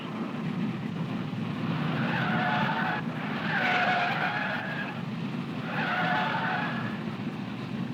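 A 1967 NASCAR stock car driven by Petty on a tire test run, its tires skidding and squealing under a steady loud engine roar, with two swelling passes of squeal that rise and fade over the run.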